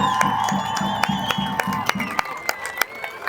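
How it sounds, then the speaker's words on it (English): A crowd cheers and whoops while clapping in distinct rhythmic beats, loud and close, with a few sharp individual claps continuing as the cheering fades near the end. "A big round of applause for everyone."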